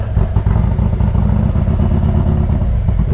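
A motorcycle with a tall windshield cruises at about 30 miles an hour, its engine drone blending with heavy, close wind rumble in a steady loud roar, with no talk.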